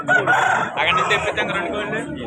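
A Nellore fighting rooster crows at a fighting-cock market in Vijayawada, one full, close, loud cock-a-doodle-doo lasting about two seconds.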